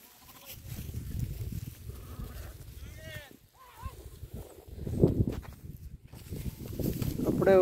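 Sheep and small lambs of a grazing flock at Unguturu bleat in scattered calls over a busy outdoor background, with shuffling movement and faint voices nearby.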